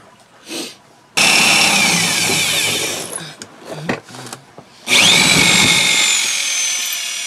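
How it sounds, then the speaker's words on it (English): A power drill whines loudly at high speed drilling holes in a pickup truck frame, cuts out, then clatters through a few stops and starts before roaring back up, close by. "We got our 2 holes to drill here."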